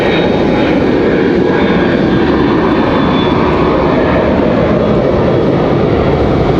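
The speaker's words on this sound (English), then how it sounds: "Nice looking exec jet departure." An executive jet departs from Raleigh-Durham International Airport, its engines producing a loud, steady roar with a broad rumble that holds unbroken throughout, close and with no talking.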